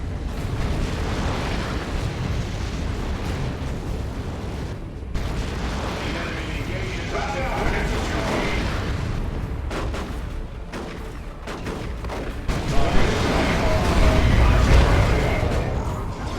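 A grenade launcher barrage in the strategy game Dawn of War 2 produces a dense, continuous clatter of explosions and gunfire, with heavier booms swelling near the end, under a commentator talking throughout.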